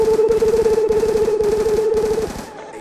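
Rapid automatic gunfire from a video game rattles in a fast, even burst for over two seconds, loud and close, before cutting off and trailing away.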